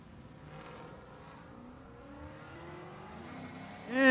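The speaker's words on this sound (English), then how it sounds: "Little Ford F-150 against that Camaro" Engines of a Ford F-150 pickup and an LT1-powered Camaro at a drag race, a steady car drone with rising engine harmonics, building to a sharp, louder surge at the end.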